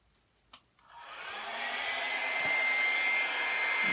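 Hair dryer switching on after a couple of soft clicks, then a steady close-up whoosh of blowing air that holds loudly for several seconds while styling purple-and-pink colored hair.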